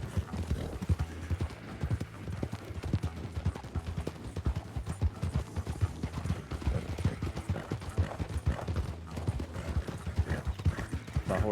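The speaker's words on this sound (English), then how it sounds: "My horse is a little bit slower than yours," Horse hooves clip-clop steadily in a video game, a dense, continuous rhythm of close hoofbeats mixed with faint rattling tack, with a brief whinny and no talk.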